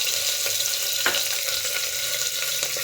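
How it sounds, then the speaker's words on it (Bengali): Steady sizzling of chopped onion frying in hot oil, continuous and close, with a few faint clinks of a utensil stirring. "পেঁয়াজগুলো একটু ভাজা ভাজা করে নেব।"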